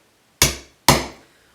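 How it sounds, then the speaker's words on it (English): Two sharp hammer blows on a punch making a starter hole in wood, evenly spaced about half a second apart, each with a short ringing decay, close and alone. "take a punch and a hammer and make a starter hole"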